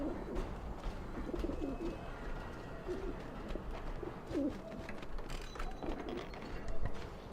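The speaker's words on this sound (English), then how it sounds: "It's a lot of pigeons." Pigeons cooing inside a coop in Alice: Madness Returns, a steady overlapping chorus of soft, low coos repeating throughout, close and fairly full against a faint mechanical background.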